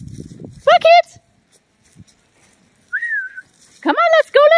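A person gives a single rising-falling whistle to call dogs back at a play area, set between bursts of excited, high-pitched barking or yelping, with faint low rumble at the start.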